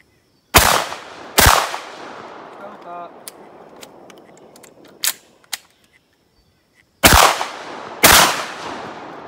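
A shotgun firing Lyman 20 gauge sabot slugs sounds four loud, sharp blasts in two close pairs at the start and end, each with a short decaying tail, while mechanical clicks and clatter fill the gap between.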